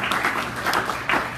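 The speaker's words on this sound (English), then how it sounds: "A round of applause for George, too" Brief audience applause at a high school athletes' performance seminar, a short burst of moderate clapping lasting just over a second.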